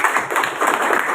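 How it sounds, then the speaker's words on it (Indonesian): A small neighborhood audience claps briefly at a local community gathering, the quick, uneven hand claps forming a short burst of applause. "Untuk itu tepuk tangan dulu"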